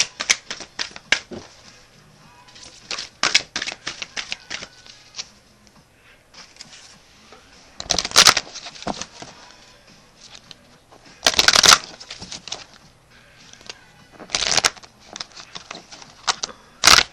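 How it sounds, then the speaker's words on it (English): A Morgan Greer tarot deck is shuffled by hand in repeated riffles and soft card slides, with louder bursts scattered among quieter stretches of shuffling, close to the listener. "I'm going to shuffle my Morgan Greer Tarot."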